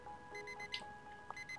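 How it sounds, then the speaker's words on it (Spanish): An alarm in the Roblox game Daycare 2 beeps in short, evenly spaced electronic pulses, quiet and steady. "Es una alarma."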